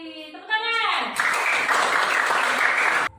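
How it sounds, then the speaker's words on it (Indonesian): A short burst of applause from a group fills most of the moment, right after a brief bit of speech. "Tepuk tangan."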